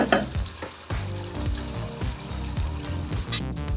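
Potato curry in yogurt simmers and sizzles in a pan, with a steady bubbling hiss, occasional stirring scrapes, and a low rhythmic background hum throughout.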